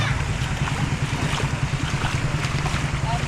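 Floodwater after a night of rain rushes steadily through a flooded area where motorbikes stand in the water, a constant loud wash with a low rumble and wind buffeting the microphone throughout.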